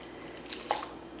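Canned chili beans slide out of the can into a crock pot with a soft, wet squelch and a couple of quiet plops, a brief and faint sound in an otherwise still kitchen.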